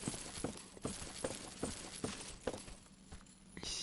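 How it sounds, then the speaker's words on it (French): Footsteps in Dark Souls Remastered: a steady run of dull thuds roughly every half second, faint and somewhat distant, over a quiet ambient hiss with no talking. "Ça me perturbe ces bruits de pas là qu'on entend."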